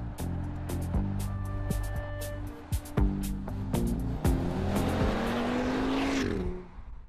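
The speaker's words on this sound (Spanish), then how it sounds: "Un sistema de escape con control de sonido hace que el 5 cilindros genere un majestuoso" Audi RS Q3 five-cylinder engine with sound-controlled exhaust, revving and accelerating hard with rising engine tones, gear changes and a car passing by near and loud.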